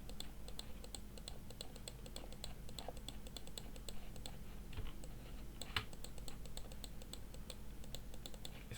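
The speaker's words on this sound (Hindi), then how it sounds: "ये माउस की क्लिकिंग की सहायता से हमने डिज़ाइन तैयार किया है।" A computer mouse and keyboard are used while designing graphics in a sketchbook program, giving steady, quiet, close clicks and taps in a continuous irregular rhythm over a faint low hum.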